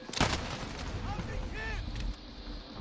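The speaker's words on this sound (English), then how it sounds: "Friendly precision airstrike inbound." Explosions and gunfire from an airstrike in Call of Duty Modern Warfare, a sharp blast followed by rumbling booms and scattered shots, fairly faint and distant, with voices speaking over them.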